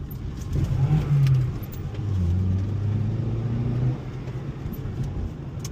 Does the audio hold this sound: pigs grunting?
no